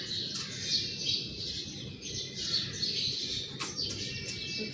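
Grey parrot calling with repeated high, shrill squawks and chirps over a steady low background hum, fairly near and continuous throughout.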